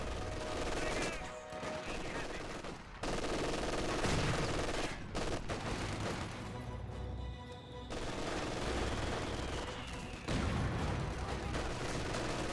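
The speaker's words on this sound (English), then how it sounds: "We got this mortar team pitching in some barrages." Mortar barrages and battlefield gunfire in Company of Heroes 2, a match between Soviet and German forces, with repeated blasts and rattling bursts in dense overlapping waves that pause briefly and resume.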